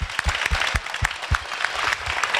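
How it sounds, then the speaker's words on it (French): Brisk applause from an audience at the Stunfest 2013 gaming festival, a steady patter of many hands clapping close by for a couple of seconds for a player. "je voudrais des applaudissements pour Clover Tag, s'il vous plaît."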